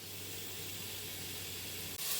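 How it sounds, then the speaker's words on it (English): Sausage frying in a pan gives a faint steady sizzling hiss that runs continuously, ending with a brief sharp break and a louder burst of hiss at the end. "We're cooking the sausage."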